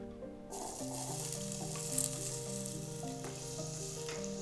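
Potatoes fry in a hot pan for a spicy potato tofu dish, a steady loud sizzle and crackle close by with no talking, while light music plays underneath.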